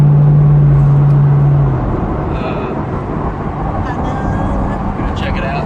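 Inside a Lamborghini on a fall day, a steady low engine drone and road rumble carry throughout, with a strong hum that drops away after the first couple of seconds; someone speaks briefly over it.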